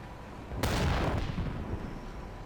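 Gunfire in a video game set during an ambush near Shchastya, a loud sudden burst of rapid shots that rings out briefly and then tails into a fading rumble.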